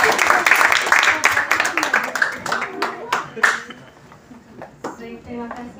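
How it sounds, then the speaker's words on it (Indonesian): An audience at a community gathering for a breaking-fast and thanksgiving event breaks into applause, a dense patter of many hands that is loud at first and then thins out, with someone talking over it. "Masya Allah, tepuk tangan dulu."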